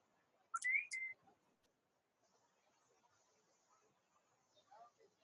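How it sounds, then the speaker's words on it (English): A phone app plays a short, bright two-note whistle near the start, loud against quiet surroundings, followed by faint low murmuring. "Sorry about the whistle. That was one of my other apps playing."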